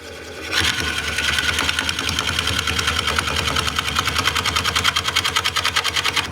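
A wood lathe hums and rattles steadily as a Woodcut Bowlsaver coring tool cuts into a spinning wooden bowl, a loud continuous drone with a fast, regular pulsing chatter that grows more pronounced toward the end.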